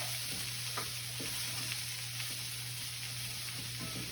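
Vegetable stir fry sizzling in a hot heavy pan, a steady dense crackling hiss with occasional soft clicks of stirring, close and even throughout.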